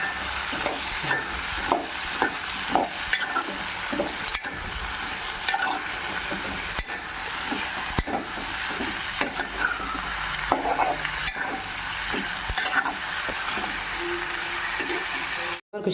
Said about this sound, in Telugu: నూనె పైకి తేలేదాకా బాగా ఫ్రై చేసుకుందాం